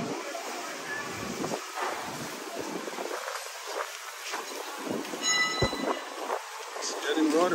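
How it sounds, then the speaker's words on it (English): Gusty wind buffets the microphone outdoors on a windy morning in Antigua and Barbuda, rising and falling in uneven bursts with faint distant sounds underneath. "It's getting rather windy now."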